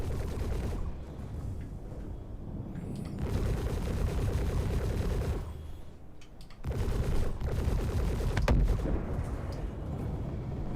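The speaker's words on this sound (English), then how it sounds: "Strafed back on me here." Continuous heavy strafing gunfire from an aircraft in a combat video game, a dense, roaring barrage that runs nearly unbroken, dipping briefly once before surging back loud and near.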